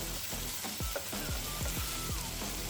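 Swiss steak browning in an electric frying pan, a continuous close sizzle and spatter running steadily throughout with no talk.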